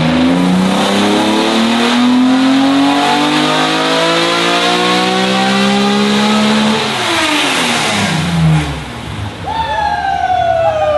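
Car with a custom 3.5-liter stroker engine revving hard, a loud rising and falling engine note that climbs through the revs, dips, then surges again near the end.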